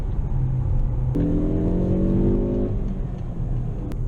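A Ford Focus ST fitted with a Quaife limited-slip differential drives at 4,000 RPM and about 50 mph, its engine giving a steady, close cabin drone with a brief stronger pull in the middle over constant road rumble.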